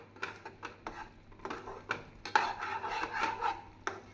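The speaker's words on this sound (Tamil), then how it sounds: "நாம் இதை கைவிடாமல் கிளறி கொண்டே இருக்க வேண்டும்." Wheat-flour atta kozhukattai dough is stirred in a pan, giving soft close scraping and irregular clinks of a spoon against the metal, a series of quiet strokes with no voices.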